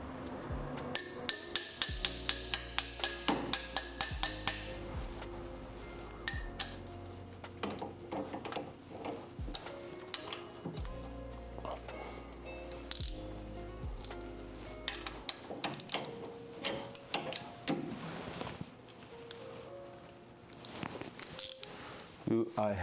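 A socket wrench with an extension works on a Datsun, producing a fast run of close metallic ratchet clicks early on and then scattered knocks, clinks and tool taps over a low background hum.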